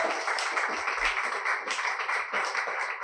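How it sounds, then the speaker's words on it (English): A meetup audience at an NFT event in New York applauds, a dense steady wash of many hands clapping close by that carries on for about three seconds with no voices over it. "We have give a round of applause"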